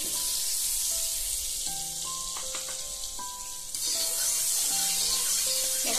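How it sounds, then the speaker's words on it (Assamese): Carrots and potatoes fry in butter with a little refined oil, a steady close sizzle that swells slightly partway through, with faint tonal notes drifting over it. "চব্জিখিনি ভাজিবৰ কাৰণে ইয়াতে বাটাৰ লৈছোঁ, গাজৰ আৰু আলু ভাজিবৰ কাৰণে"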